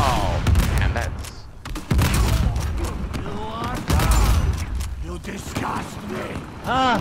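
Gunfire in the video game Uncharted: The Lost Legacy rings out in sharp repeated shots and short bursts, mixed with in-game voices and a player talking over the action.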